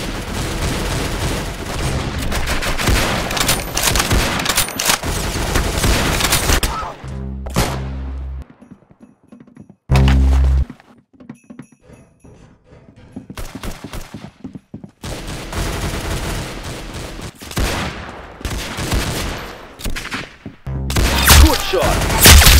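Dense bursts of rapid gunfire and explosions fill a shooter in the Arsenal video game, loud and sustained, dropping to brief quieter gaps before heavy firing resumes, with a voice calling out occasionally.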